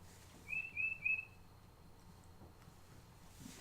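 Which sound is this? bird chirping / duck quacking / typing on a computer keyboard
bird chirping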